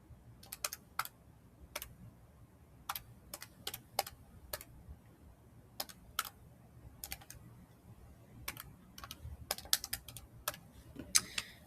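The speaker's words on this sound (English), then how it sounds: "take a second, type it in your calculator." Numbers being keyed into a calculator: quiet, irregular clicks of button presses in uneven bursts, close and fairly faint, with no talking.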